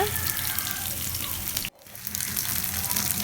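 Steady, close sizzling of chopped onion and green chili frying in hot oil for prawn thokku, cutting out abruptly for a moment before the hiss resumes.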